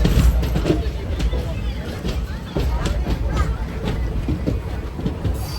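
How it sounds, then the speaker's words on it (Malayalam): The Palakkad to Tiruchendur Express rolls into Dindigul Junction, its wheels clattering rhythmically over rail joints beneath a babble of passengers' voices and nearby talk inside the unreserved coach. "ട്രെയിൻ ഇപ്പോൾ ഡിണ്ടുഗൽ ജംഗ്ഷനിലേക്ക് ഇതാ എത്തുകയാണ്"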